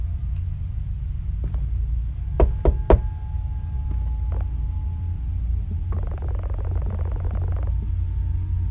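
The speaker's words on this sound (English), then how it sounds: "He's just been banging on the door." Heavy banging on a door in the horror game Fears to Fathom: Norwood Hitchhike, a quick cluster of three loud knocks, with a softer thud before and after, over a steady night ambience of insects.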